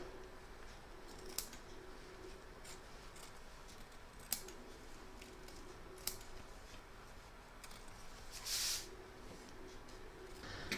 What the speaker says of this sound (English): I'm now going to trim away the excess batting from around the edge of this stitch line